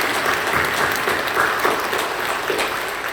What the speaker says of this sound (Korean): 박수로 격려해 주시고